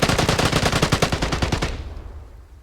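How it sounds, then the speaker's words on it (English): Rapid automatic gunfire in the online shooter Vigor, a steady burst of about a dozen evenly spaced loud shots over under two seconds, then the sound fades into a short echoing tail with no talk. "Somebody is shooting at somebody else."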